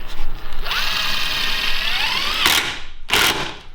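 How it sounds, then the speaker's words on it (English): A power drill drives screws into a wooden cabinet with a rising whine as each screw bites. Close and loud, with a ratcheting clutch burst near the end followed by a second short one. "So let's get a few screws in here."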